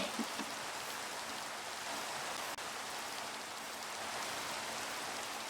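Steady rain falling in the video game Minecraft, a continuous even hiss that fills the whole stretch with no talk over it.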